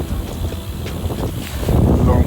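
Wind rushes over the microphone during a bike ride along Essex country lanes, a steady breezy roar that swells louder near the end.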